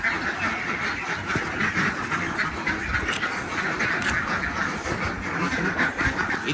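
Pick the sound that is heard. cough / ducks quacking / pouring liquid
ducks quacking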